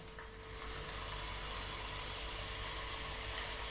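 Black pepper and finely chopped ginger fry in a pan for ven pongal, giving a soft, continuous sizzle that rises after a brief quieter start and then holds steady.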